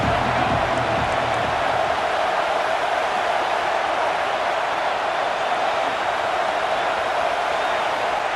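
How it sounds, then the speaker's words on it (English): Stadium crowd at a football game producing a constant, dense roar of cheering that holds steady and loud throughout, with no clear individual voices standing out. "This crowd ready to make its presence known."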